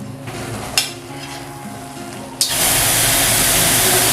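Onion puree and ginger hit hot oil in a pan for aloo gobi: quiet cooking noise and a couple of clinks, then a sudden loud hiss that swells into a sustained, strong sizzle.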